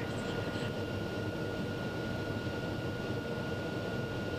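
A TBM850 single-engine turboprop lines up on the runway for takeoff, its engine and cabin noise a steady, loud, broadband roar with a constant whine, unchanging throughout and with no voices.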